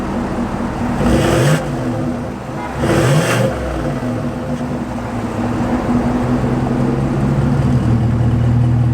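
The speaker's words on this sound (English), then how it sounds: "Let's take a quick listen for normal, and then we'll switch over to sport." A 2024 GMC Sierra AT4X pickup with its exhaust in normal mode: a steady, deep engine drone with two short revving surges early on, then a settled rumble. No talking.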